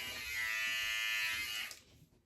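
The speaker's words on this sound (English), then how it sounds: "I'm going to do a head shave right now." Philips OneBlade electric razor shaving a head: a close, loud, steady buzzing hum that holds for about one and a half seconds, then stops and fades.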